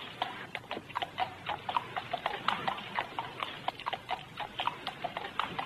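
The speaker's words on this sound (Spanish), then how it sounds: "David, llévate los caballos y átalos allí." Horses walk in a film scene, their hooves clip-clopping in a steady, even rhythm of sharp close knocks, with no talk.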